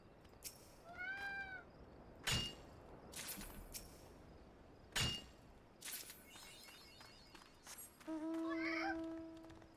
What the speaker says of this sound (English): It's been very cute hearing the cat.